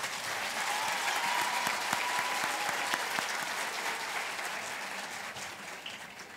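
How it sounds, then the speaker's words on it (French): Sustained applause from an audience at a graduation ceremony, honoring the graduates' parents, a dense, steady wash of many hands clapping at fairly close range that continues throughout and eases slightly near the end. "Je pense que nous pourrons bien applaudir les parents de nos lauréats."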